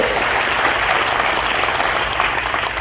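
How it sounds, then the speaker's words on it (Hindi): Loud, dense applause from a large seminar crowd of teaching students honoring their teacher, close and continuous without a break. "इसलिए हमारे गुरुदेव के लिए एक बार जोरदार ताली होना चाहिए।"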